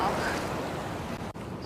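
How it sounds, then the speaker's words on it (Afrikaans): Ocean surf rolling in calmly on a beach during fishing, a continuous broad wash of waves with some wind, steady and close, with no distinct breaks. "Die branders rol kalm in."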